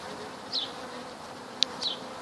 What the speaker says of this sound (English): There's a whole bunch of bees on both sides.